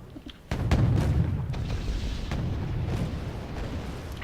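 Tanks firing on Tunguska anti-air vehicles in Wargame AirLand Battle: a heavy cannon boom, then a rumbling explosion that rolls on with scattered further blasts in the distance.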